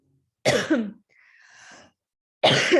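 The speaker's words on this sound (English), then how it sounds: "I'm struggling with this cough" Two harsh, loud coughs close to the mic, separated by a quiet breathy pause with a faint wheeze.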